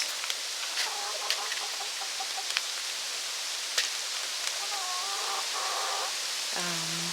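Hens clucking inside a backyard coop nesting box, a series of short repeated clucks that grow louder toward the end and finish with a lower drawn-out call, over steady outdoor background noise and scattered faint taps.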